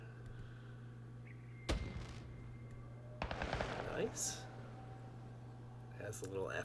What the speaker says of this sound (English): Next one's going to be some sweet fireworks.